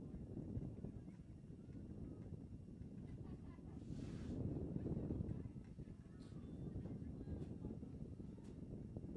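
Low, blustery wind rumbles against the microphone throughout a girls' soccer final at Redwood High School in Larkspur, swelling in gusts, with faint distant sounds beneath it.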